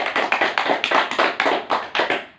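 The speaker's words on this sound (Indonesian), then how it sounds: "Kita buat semuanya, tepuk tangan yuk." Third-grade class in a microteaching lesson clapping together in a rhythmic pattern, about a dozen crisp, evenly spaced group claps that are close and fairly loud with no talk.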